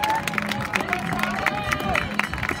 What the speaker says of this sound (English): Everybody clap it up for them.